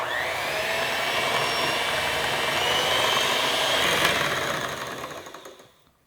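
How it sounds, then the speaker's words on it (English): A stand mixer whips chocolate sponge cake batter, a steady close motor whir with a bright high whine holding for several seconds before trailing away to silence. "Now this is where the stand mixer comes in handy"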